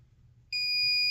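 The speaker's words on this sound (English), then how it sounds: "it'll beep on the actual breaker" A breaker finder emits a sharp, high-pitched electronic beep that cuts in midway and holds steadily to the end over a faint low hum.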